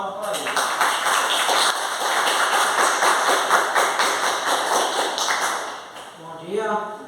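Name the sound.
audience applause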